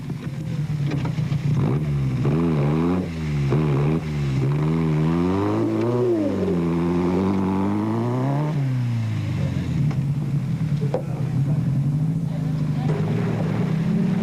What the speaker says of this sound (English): seemed headed for trouble as the Baileys tried to extricate their vehicle from the mud